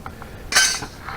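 Homemade metal cymbals for the inside of a cigar box guitar give a single short, bright clink up close, with faint handling sounds around it.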